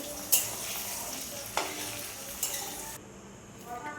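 Eggs fry in oil in a kadai for an akhuri dish, a close, steady sizzle punctuated by a few sharp utensil scrapes and taps before the sound cuts away near the end.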